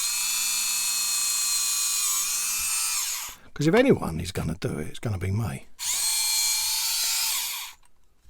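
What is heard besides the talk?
drill drilling hole in scale model part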